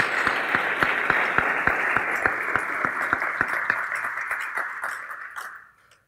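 An audience at a community college ribbon-cutting gives top donors a round of applause, a dense wash of clapping with a few sharper individual claps, holding steady and then tapering off to silence at the close.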